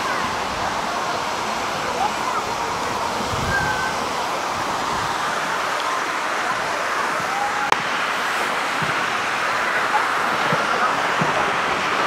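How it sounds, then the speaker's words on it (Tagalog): Strong wind roars steadily at Dampalit Falls in Los Baños, Laguna, a constant broadband rush mixed with rushing water, with occasional buffeting on the microphone and faint voices in the background. "Ang lakas ng hangin, baka hindi tayo makapagpaliban ng drone."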